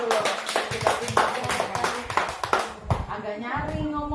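A class of pupils clapping their hands together in a busy, uneven burst of many overlapping claps, close and fairly loud, with talk running through it.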